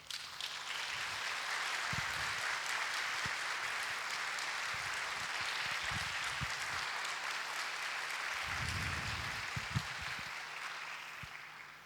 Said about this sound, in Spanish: yo les quiero pedir para ellos un fuerte aplauso